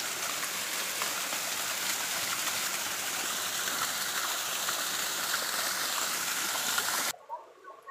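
Heavy rain pours steadily with flood water rushing and roaring underneath, a dense continuous wash that cuts off abruptly near the end.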